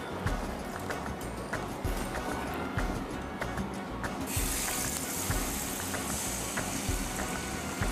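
Water runs and splashes into a cooking pot for boiling rice with whole spices and salt, a steady close pouring and trickling that brightens partway through, with faint kitchen clatter.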